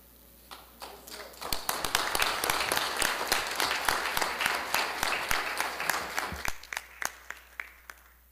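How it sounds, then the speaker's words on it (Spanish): A crowd claps for Olympic medallist Jean Pierre Brol at a homecoming welcome in Guatemala, starting with a few sharp claps, swelling into full applause, then thinning back to scattered individual claps near the end. "Aplauso más fuerte para Jean-Pierre Brol"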